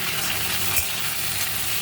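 Mustard seeds and dried red chillies fry in hot oil, giving a close, continuous loud sizzle with a faint crackle and a brief low thump, and no talking.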